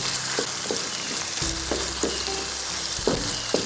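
Tomatoes sizzling and frying in a pan for a simla mirch (capsicum) dish, a steady hiss broken by scraping stirs and a few utensil knocks, close and moderately loud with no voices.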